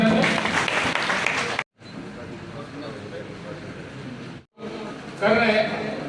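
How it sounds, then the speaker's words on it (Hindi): Loud applause greets a guest at an Engineers' Day ceremony in Udaipur, a crowd clapping in a hall broken by two abrupt cuts to silence, with voices heard over the clapping. "जोरदार तालियों के साथ अभिनंदन"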